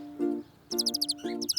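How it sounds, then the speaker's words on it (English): Small birds chirp in a few quick bursts of bright high tweets, faint and close, over a soft low hum. "You're right. Those are birds."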